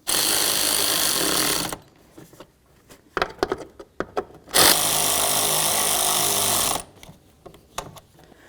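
Power tool whirring in two long bursts as blower motor mounting bolts are snugged up on a 1999-2007 Ford F-250, with clicks and rattles of handling between the bursts.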